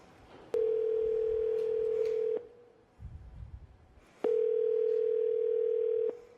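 A steady telephone dial tone from a public-use phone at a Kinko's copy shop sounds for about two seconds, breaks off with a low rustle, then returns for another two seconds, loud and close with no voices.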